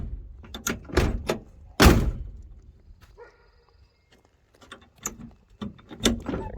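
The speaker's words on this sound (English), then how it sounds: "The door shut tight, and the door shut better." A 1967 Plymouth Fury car door thuds shut several times, sharp solid slams with metallic latch clicks in between, and a quiet pause midway.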